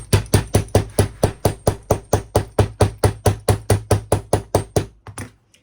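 A hammer taps a sewn fabric seam flat: a steady run of about twenty firm, evenly spaced taps, loud and close, slowing to a couple of softer hits at the end.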